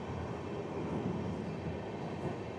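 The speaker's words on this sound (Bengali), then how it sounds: "আমাদের ট্রেন এগোচ্ছে তার পরবর্তী হল্ট পাকুড়ের দিকে" The Tebhaga Express passenger train runs on rails toward Pakur, a steady low rumble of wheels and carriage heard from inside at fairly low volume, with no talking.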